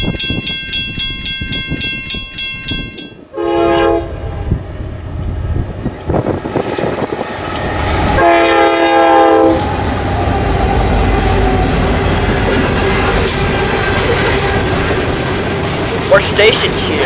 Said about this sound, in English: this is an NS company grain train heading southbound